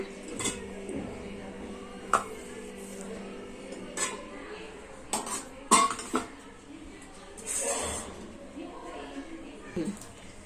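Steamed fasting idli plates lifted out of a steamer pot, with sharp metallic clinks and clatters scattered among quieter handling sounds, close by, while a person talks intermittently.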